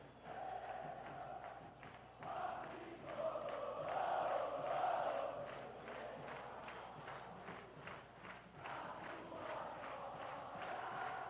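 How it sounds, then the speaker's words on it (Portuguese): A stadium crowd of São Paulo supporters sings the club anthem in unison at the 1992 Copa São Paulo de Futebol Júnior final against Vasco, a distant massed chant that swells and fades. "O hino do tricolor cantado em uníssono pela torcida do São Paulo."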